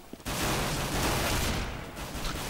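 A shotgun fires during a CS:GO match on de_dust2, a sudden loud blast with rattling gunfire continuing for about two seconds before fading into lighter shots.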